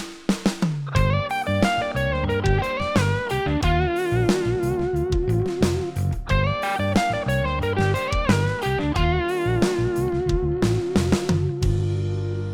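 A busy electric guitar blues lick with quick slides, bends and repeated phrases over a full backing groove, loud and continuous.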